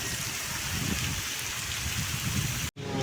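Steady rain pours in the mountains of Solang Valley near Manali, a dense, even patter heard close. It cuts out briefly near the end.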